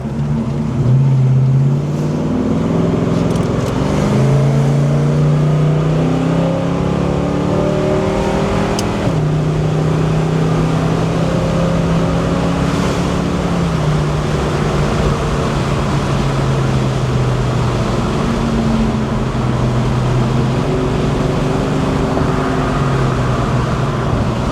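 A restored 1970 Chevrolet Chevelle with hidden performance upgrades drives along, its engine droning loudly and close with rising and falling tones through shifts, steady throughout with no talk.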